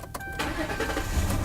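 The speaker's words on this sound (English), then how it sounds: "start the engine." A patrol car engine cranks and catches, settling into a steady running rumble after a short, sharp starting burst, close and loud with no talking.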